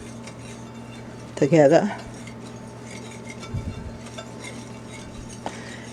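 Dry ingredients and a half teaspoon of salt are mixed in a bowl for a butter lemon pound cake, giving a brief burst of clinking, scraping stirs for about a second, set against steady background hum and a voice.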